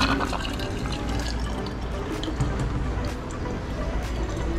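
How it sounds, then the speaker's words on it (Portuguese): A hot water dispenser at a gourd factory in Iraí pours a steady stream of water, a continuous hiss that runs throughout without talking. "bebedor de água quente."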